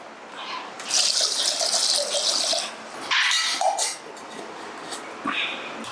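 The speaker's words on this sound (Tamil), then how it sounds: "இதுக்கு அளவாக தண்ணி ஊற்றிக்கிறேன்" Water pours and gushes into a vessel in a steady stream, stopping briefly and resuming, loud and close.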